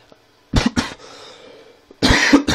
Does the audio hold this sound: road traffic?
no